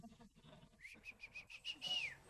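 A person whistles as a call signal, a run of short rising whistle notes in quick succession ending in one longer swooping whistle, fairly faint with soft murmuring before it.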